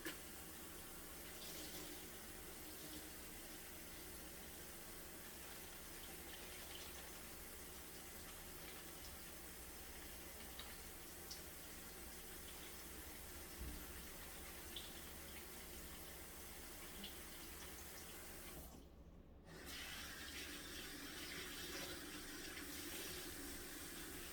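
Tap water runs steadily into a kitchen sink while cheesecloth is washed, a constant close hiss with a brief break near the end.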